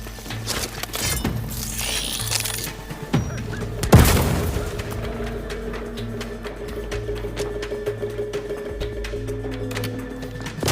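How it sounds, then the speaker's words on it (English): A grenade goes off in The Outer Worlds 2, a single loud boom in the middle of steady game background sound and music, with faint gunfire and other noises before and after. "Grenade! Away!"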